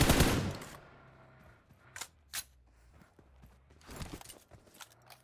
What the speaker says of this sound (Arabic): موسى حبي ارمي لك طلقة.